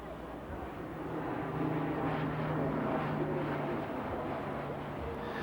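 A Turbolet transport aircraft manoeuvres low at an air show, its engine drone a steady, moderately distant hum with a sustained tonal whine holding level throughout.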